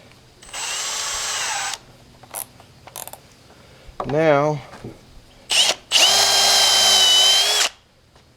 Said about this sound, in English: I got a feeling this drill bit is bigger than that hole